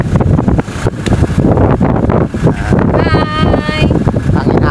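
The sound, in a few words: wind blowing in a park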